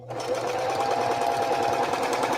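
Sewing machine stitching a placemat pouch, a loud, close, continuous whirring buzz with a fast mechanical pulse that starts abruptly and runs steadily throughout.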